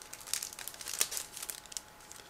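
Scissors snip and crinkle through a sealed plastic bag holding a model kit, producing faint, close crackling and crumpling with a few sharper cuts, no voices.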